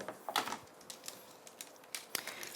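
Faint, irregular crackles and snaps come from a die-cutting machine as a craft die presses into the cutting plate, with scattered small cracks and no voices.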